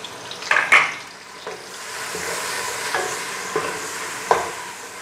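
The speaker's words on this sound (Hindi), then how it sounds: "ये देखें अदरक लहसुन पेस्ट हमारा भून चुका है।" Ginger garlic paste fries with cumin seeds in hot oil, a continuous close sizzle punctuated by a few sharp spoon scrapes and taps against the pan, no voices.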